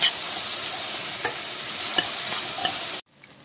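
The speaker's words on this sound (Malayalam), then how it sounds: "ഒന്ന് മിക്സ് ചെയ്ത് ഉടച്ചെടുക്കാം" Chopped tomatoes being stirred and mashed into fried onions in a pan for beef curry: a steady sizzle with soft scraping stir strokes throughout, ending abruptly.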